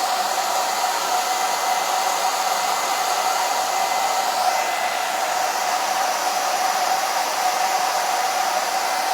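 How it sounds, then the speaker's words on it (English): A handheld blow dryer runs steadily from start to finish, close and loud, with a constant airy roar and a hum that holds throughout. It is being used to dry the centers of something, and no one speaks. "The blow dryer is actually making it melt, like warm up a little"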